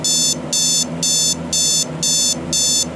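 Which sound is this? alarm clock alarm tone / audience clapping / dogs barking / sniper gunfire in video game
alarm clock alarm tone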